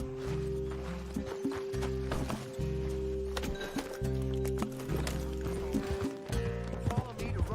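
Horse hooves in Red Dead Redemption 2 clop in a steady rhythm with faint clinking tack, mixed with a low droning hum and game-like background sound.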